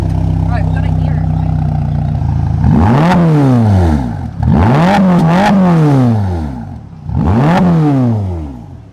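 A Ferrari Roma engine idles, then barks through three loud, sweeping revs that climb and fall in pitch, each separated by a brief settle back toward idle, close and dominant.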